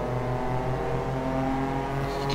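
Kei cars race hard at Sepang circuit, a pack of small engines revving and droning loudly and continuously with steady harmonic whine.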